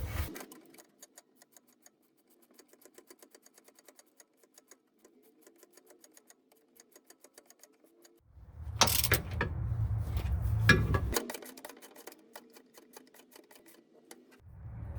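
Ratchet cranking down suspension bolts on a Jeep or Dodge, heard as rapid clicking in repeated bursts up close, with a louder stretch of mechanical noise midway.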